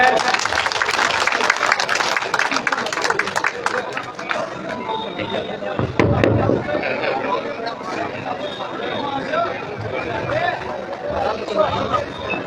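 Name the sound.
loud applause welcoming guests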